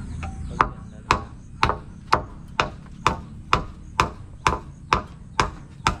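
Steady, evenly spaced hammer blows, about two per second, sharp knocks ringing over a low background rumble.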